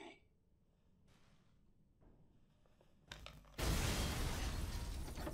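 After a few quiet clicks and thuds, a loud burst of noise erupts and sustains, like a big explosion with rumbling debris, in the video game Resident Evil 7.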